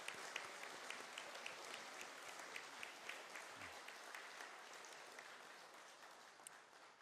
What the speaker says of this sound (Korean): 졸업생 여러분, 서로 마주 보면서 서로 격려의 박수 좀 보내주세요.